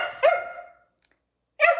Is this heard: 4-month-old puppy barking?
yes